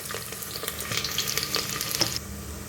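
Two medium onions frying in oil in a pan over medium heat for dahi chicken, a dense, loud, continuous sizzle with crackling spatter and no voices.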